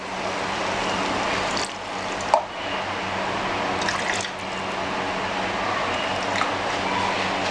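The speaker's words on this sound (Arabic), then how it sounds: "نص كوباية مية" Half a cup of water poured into a cooking pot of meat, a steady liquid rush with soft splashing and a small plop, close and moderately loud.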